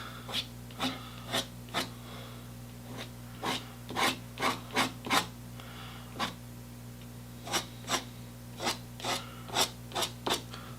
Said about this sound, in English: you actually start scraping out some of the paint